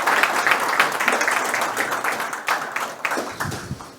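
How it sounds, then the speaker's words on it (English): Applause from an audience at a homeopathy talk, a moderate spread of clapping with scattered louder claps, fading slightly over a few seconds. "So let's give him a huge round of applause."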